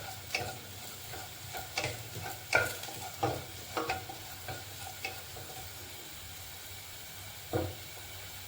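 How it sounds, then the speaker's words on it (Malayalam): Garlic fries in ghee in a pan as a soft sizzle runs underneath, broken by irregular sharp taps and scrapes of a spoon stirring, quiet and close, with no talking. "ഞാൻ ഗീ എടുത്തിരിക്കുന്നത് അതിൻ്റെ അകത്ത് ഇത് നമ്മൾ വെളുത്തുള്ളി ഇട്ടു"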